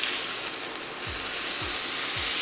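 Chicken breasts sizzle and fry steadily in a hot pan, a dense continuous hiss with a few soft low thumps as pieces are turned, no talking.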